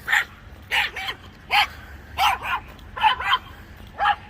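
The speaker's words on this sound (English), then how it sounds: "that little dog got a little excited" A small dog barks excitedly in a quick series of sharp, close yips, about seven bursts, some doubled, spaced by short pauses over a quiet indoor background.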